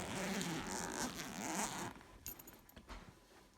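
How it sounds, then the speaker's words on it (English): A backpack zipper being opened to get at a Hubsan X4 Pro drone gives a close rasping pull that runs for about two seconds, then a few softer fabric rustles and clicks, quiet with no talk. "So we're just going to unzip it."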